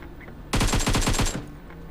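Automatic weapon fire in the mobile battle royale game PUBG Mobile: one rapid burst of about eight loud, evenly spaced shots lasting under a second, then quiet.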